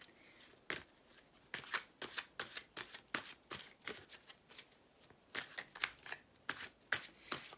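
Tarot cards are shuffled and handled by hand while one card is being chosen, giving crisp riffling and flicking bursts in an irregular rhythm, close and quiet, with no talking.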